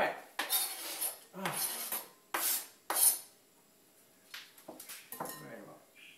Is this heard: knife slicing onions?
yes